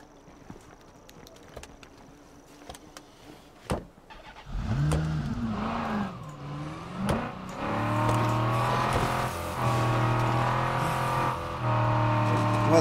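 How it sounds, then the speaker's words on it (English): Car in the video game State of Decay 2 starting off and driving down a road. The engine comes in after a few sharp clicks and thuds, rising through revs and then settling into a loud, steady drone with no talk over it. "We just drive down the road."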